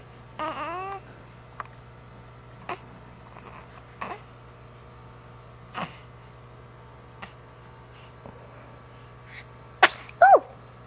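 A baby gives one clear sneeze near the end, loud and close, among quiet babbling coos and small vocal sounds over a low steady room hum.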